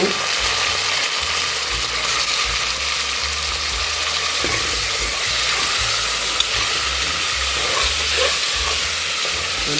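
Minced mutton keema tipped into a hot pan for a ridge gourd curry sizzles and fries in a loud, steady hiss throughout, with faint scraping and stirring knocks underneath.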